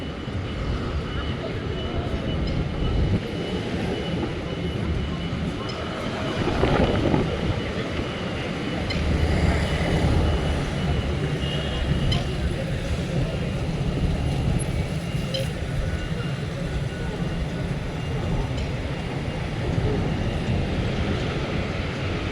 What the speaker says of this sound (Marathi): आणि हे आहे शिहू स्टेशन.